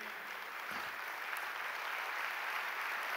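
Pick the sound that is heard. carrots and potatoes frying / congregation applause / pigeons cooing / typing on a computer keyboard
congregation applause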